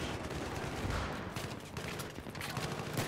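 Dense, continuous gunfire from the video game Battlefield 3, a loud unbroken fusillade of overlapping shots and explosions filling the whole stretch with no pauses.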